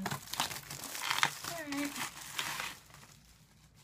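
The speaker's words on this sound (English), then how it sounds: "Let's open this with my dandy scissors. Okay, well, I didn't really need the scissors. They just popped right open." Plastic nail polish packaging popped open by hand, a close crinkling and crackling of thin plastic with a brief tearing rustle, while a person speaks over it.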